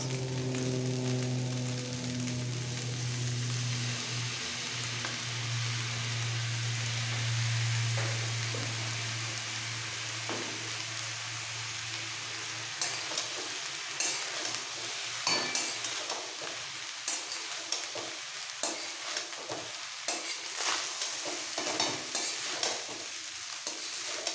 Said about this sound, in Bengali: ভালো করে সমস্ত রাইস একসাথে মিক্স করে ফেলব